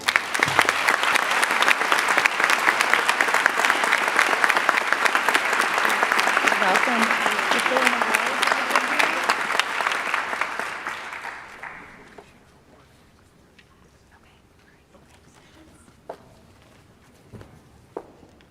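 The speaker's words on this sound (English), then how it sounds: "Please join me once again in a round of applause for Leah Kilpatrick-White" Audience applause at a high school underclassmen awards ceremony, a dense, sustained round of clapping that fades out around twelve seconds, leaving a quiet room with a few faint knocks and shuffles.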